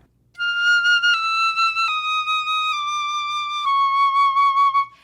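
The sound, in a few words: flute playing a descending line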